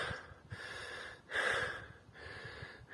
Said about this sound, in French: vous avez juste à écouter ma respiration pour comprendre que je suis essoufflé